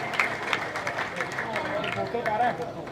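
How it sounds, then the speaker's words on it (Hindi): A village crowd claps loudly and continuously to welcome newly commissioned lieutenants, dense sustained applause with a voice speaking over it. "जोरदार तालियां बजाकर स्वागत करेंगे।"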